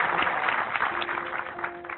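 Moderate applause from a group, a patter of many hands clapping that sounds slightly muffled and tapers off a little toward the end.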